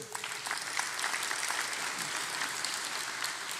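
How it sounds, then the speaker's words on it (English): Sustained audience applause at a live stock market Q&A session, dense steady clapping from a crowd that holds an even level for several seconds. "Let's clap for the Queen right quick."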